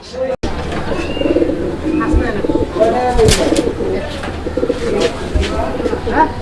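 Pigeons cooing close by in repeated throaty, rolling calls, with faint background voices mixed in.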